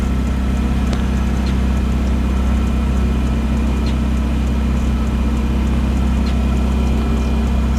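A car with a modified exhaust, started after sitting for two years, idles with a deep, steady low rumble and a few light ticks, loud and close, with no one talking.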